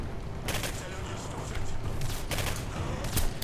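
Rapid bursts of gunfire in the shooter game Singularity, several sharp volleys over a dense combat background, with a voice talking underneath.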